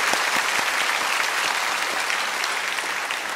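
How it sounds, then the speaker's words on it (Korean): Church congregation applause, a loud, dense and steady wash of many hands clapping together, sustained evenly throughout without any voices. "이리저리 수고하시는 우리 봉사자들 한번 큰 박수로 격려해 주시면 감사하겠습니다."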